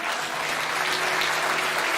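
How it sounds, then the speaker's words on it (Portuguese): A church congregation applauds together, continuous dense clapping filling the room at steady loudness, with a faint sustained tone beneath it. "com uma salva de palmas ao Senhor"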